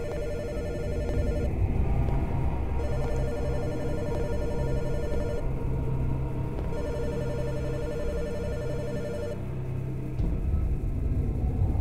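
A telephone rings repeatedly in a horror video game, steady bursts of ringing over a constant low rumble, with no one speaking.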